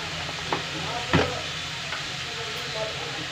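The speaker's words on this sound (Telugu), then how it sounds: "చూడండి వేగుతున్నాయి, కొంచెం వేగితే సరిపోద్ది" Carrot stir-fry frying in a pan, a steady close sizzle with a few brief scraping stirs, no voices.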